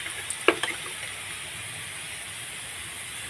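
Asafoetida sizzles in hot oil in a pan while a mango chicken pickle is cooked, giving a steady frying hiss with a few sharp crackles and taps near the start, heard alone.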